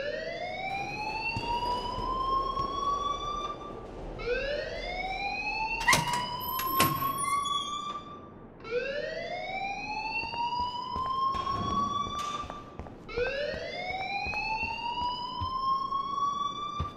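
A rising, whooping electronic alarm in the video game Life Is Strange repeats in steady sweeps about every four seconds, loud and continuous, with a few sharp clicks between cycles.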